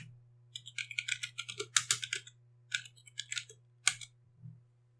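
Someone types on a computer keyboard, up close, in quick irregular clusters of crisp key clicks with short pauses between, over a faint steady electrical hum.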